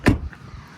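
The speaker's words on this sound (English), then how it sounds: "Way quieter door handle motors than R1 by a huge margin." The electric door handle motor on a Rivian R2 gives one short, quiet whirring click up close, then fades into faint background noise.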